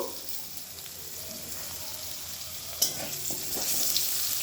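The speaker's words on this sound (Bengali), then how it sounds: "একটু হালকা করে আলুগুলো ভেজে নেব" Sliced potato strips fry in leftover fish-frying oil, a constant crackling sizzle throughout with a sharp utensil knock midway and slightly louder bubbling afterward.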